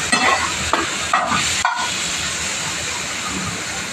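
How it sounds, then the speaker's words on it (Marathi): Onion and other ingredients tipped together into hot oil for egg rice, giving a loud close sizzle and hiss with a few stirring scrapes over the first seconds before settling into steady frying. "तेल गरम झालेलं आहे. आता हे सगळं आपण एकत्रच टाकायचं सगळं."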